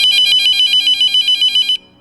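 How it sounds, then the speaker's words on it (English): An old telephone on a counter rings with a rapid bright electronic trill, pulsing in quick even bursts for under two seconds before stopping abruptly, loud and close with no other sounds. "The old phone on the counter rang."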